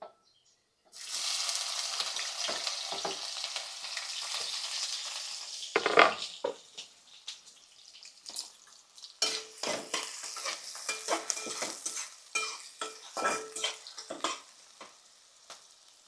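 Onions with cumin and fenugreek seeds frying in a hot pan, a loud steady sizzle kicking in after a second of silence, then quieter crackling broken by sharp stirring scrapes and clinks of a utensil against the pan.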